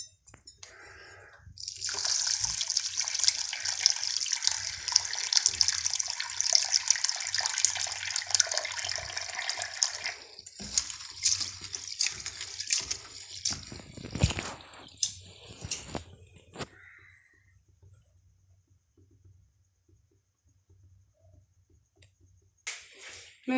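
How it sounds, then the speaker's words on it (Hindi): Water splashes and swirls while moong and masoor dal lentils are rinsed in a bowl, close and steady at first, then turning into scattered sloshes and drips with quiet gaps. "दाल नूं धोने आ"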